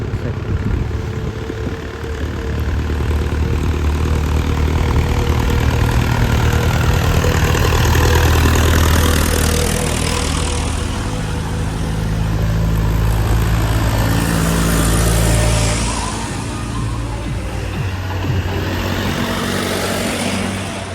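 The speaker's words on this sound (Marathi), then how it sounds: "ट्रॅक्टर" A steady tractor engine runs throughout at close range, a low droning rumble that swells slightly in the middle and holds constant.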